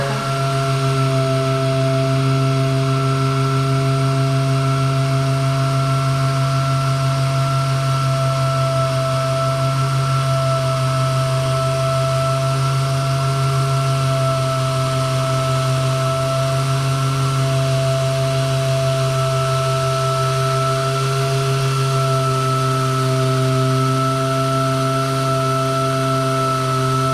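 A power sander runs over wood veneer with a continuous loud, even motor hum and whine that holds steady throughout, with no speech.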